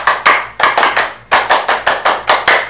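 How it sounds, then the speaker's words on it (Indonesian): Rhythmic Indonesian scout clap, tepuk pramuka, performed by a group in unison: sharp, loud bursts of hand claps in a patterned sequence with brief pauses between groups, close and clear with no talking. "silakan tepuk pramuka dulu Kak Andi"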